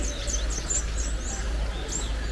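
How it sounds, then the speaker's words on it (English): Small birds in a San Diego Zoo aviary give quick, high chirps and tweets every fraction of a second over a steady low hum, moderately near. "This is a beautiful aviary with birds everywhere."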